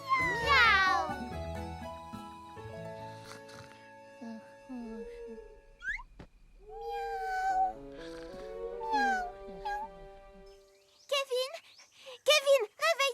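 Cartoon cat meowing in a few high, drawn-out cries amid playful voices and light music, followed by short squeaky sounds.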